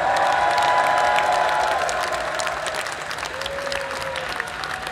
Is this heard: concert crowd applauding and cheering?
yes